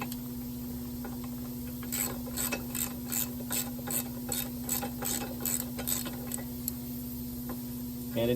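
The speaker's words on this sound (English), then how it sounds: "Takes a little bit of torque to break those bolts loose." A ratchet wrench loosens the blade bolts on a John Deere JE75/JX75 self-propelled mower, giving rapid bursts of clicking in quick, uneven strokes over a steady background hum.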